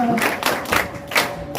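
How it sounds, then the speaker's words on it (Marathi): A school audience at a uniform and supplies distribution event clapping in thanks, a short spell of sparse, uneven handclaps heard close in a room. "अगदी टाळ्या वाजवून त्यांना आपण धन्यवाद देऊया"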